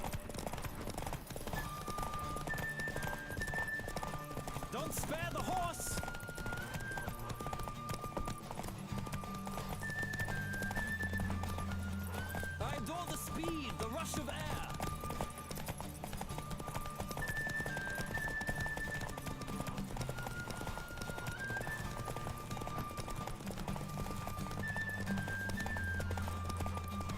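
Horse galloping in a race in The Witcher 3: a rapid, continuous clip-clop of hooves with occasional whinnies, set against steady background music.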